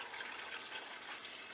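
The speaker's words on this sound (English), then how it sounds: "So now I am going to add 1 of my jugs of juice to this container without splashing it all over everybody" Juice pours steadily from a jug into a container, a faint, continuous liquid rush heard alone at low level.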